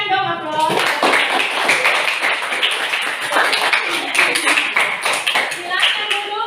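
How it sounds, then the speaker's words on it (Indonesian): Classroom applause from a group of students, steady dense clapping that starts after a brief pause and keeps going at full strength to the end, with scattered voices mixed in. "Berikan dong aplaus"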